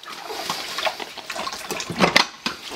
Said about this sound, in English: This is about the flow rate I would use to wash dishes.